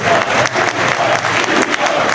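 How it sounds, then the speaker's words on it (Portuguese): A crowd at a political rally in Brazil breaks into loud, sustained applause for Governor Tarcísio, a thick roar of clapping that runs unbroken from start to end. "Eu peço uma salva de palmas para o nosso governador aqui, Tarcísio Veiga."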